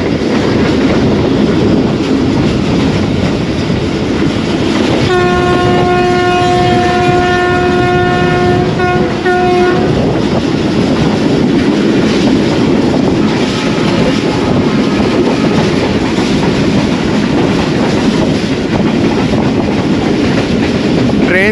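A train racing alongside the Drivo Express on an overnight Karachi to Lahore journey, a loud continuous rush of wheels and rail noise heard from aboard, with a sustained horn sounding for about five seconds partway through.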